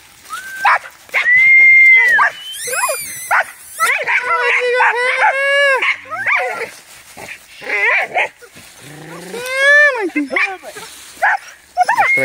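Several hunting dogs bark, yip and whine excitedly in a close, loud burst of overlapping calls, with short pauses between outbursts, while hunting armadillo and paca.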